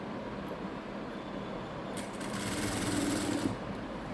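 A sewing machine stitches the sleeve of a Baahubali-style blouse, giving a steady, fairly quiet mechanical whir. The whir grows a little louder and busier partway through, with no talking.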